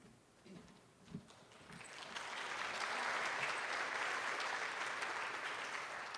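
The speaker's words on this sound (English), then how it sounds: "That was really a very hesitant applause" Hesitant audience applause at a community event on a safe harbor vote, starting with a few scattered claps, then swelling into steady, moderately distant clapping from a crowd that holds for several seconds.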